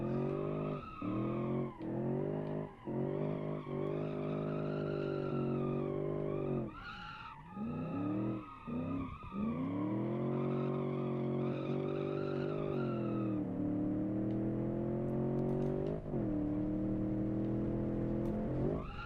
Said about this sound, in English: This is such a fun car to drive